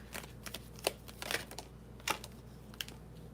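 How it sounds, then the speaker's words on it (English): Tarot cards being shuffled during a live reading, with rapid papery riffles and soft flicks in irregular bursts, close and moderately quiet, without talk. "give me one moment to shuffle"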